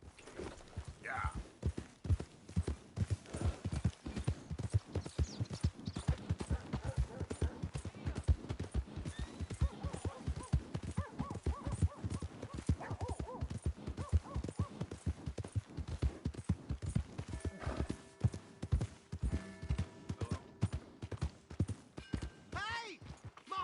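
Continuous, evenly paced hoofbeats of a horse in the video game Red Dead Redemption 2, close and clear, with a brief whinny near the end and faint voices in the background.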